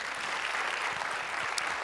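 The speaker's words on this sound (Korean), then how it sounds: "박수 한번 해주세요" Applause from a church congregation during a sermon, a steady wash of clapping held at a moderate level for the whole stretch, with no voices over it.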